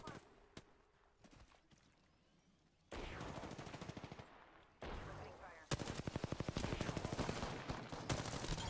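Triple Take rifle shots crack in Apex Legends, loud rapid bursts of gunfire starting abruptly and repeating in dense volleys, with a player talking quietly in between.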